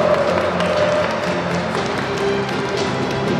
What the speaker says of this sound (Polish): Poprosimy jeszcze raz o wielkie brawa.